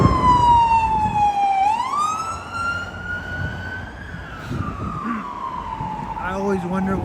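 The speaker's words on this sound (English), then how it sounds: "I always wonder when they're gonna make the transition with the siren, because eventually it goes wee woo wee woo wee woo wee woo." A loud emergency vehicle siren wails on a New York City street at night, its tone sweeping slowly up and down in a long wail. Traffic rumbles underneath, and a voice speaks briefly near the end.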